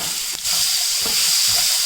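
Dry chilies and soaked, boiled red chana sizzle in a hot pan of oil, a steady, close, bright hiss with a few soft stirring knocks.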